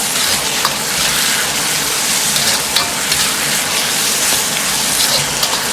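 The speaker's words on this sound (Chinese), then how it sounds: "再用勺子推动。" Yu xiang shredded pork with lettuce shreds and sauce sizzles and crackles in a wok while being pushed with a ladle, a steady dense frying hiss close by with small scrapes and pops throughout.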